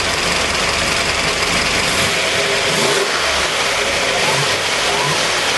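A turbocharged small-block Chevy 355 with a budget blow-through turbo kit revs up close and loud, a rough continuous engine roar that holds steady throughout, heard alone.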